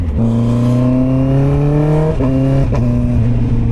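Loud, close Yamaha R9 sportbike engine holding a steady high rev with harmonic tones gradually rising, then briefly dipping around a gear change before climbing again, with no talk over it.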